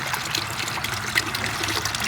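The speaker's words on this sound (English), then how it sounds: "It's a water diffuser. It's got hose all the way around it, and it sprays up." Water trickles and dribbles down the hoses of a hydroponic water diffuser, a steady close wash of small splashes with no talk over it.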